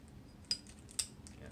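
A Petri dish is clamped into the holder of an atomic force microscope in a lab, making two small, sharp metallic clicks about half a second apart. The clicks are close but quiet over faint room noise.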